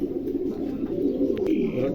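A pair of pigeons for sale, Dragon Homer type, coos in low, steady rolling tones that run through the whole short stretch, close and fairly loud, with a couple of faint higher chirps near the end.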